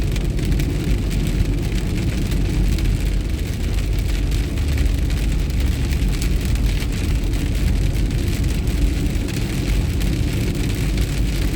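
Heavy rainstorm drumming steadily on a moving car on the way to Terre Haute for groceries, a dense constant wash of rain over low road rumble with no pauses throughout.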